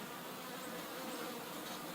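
Gentle honey bees swarm and buzz steadily around a horizontal hive, a continuous soft drone of many insects at moderate distance with no voices.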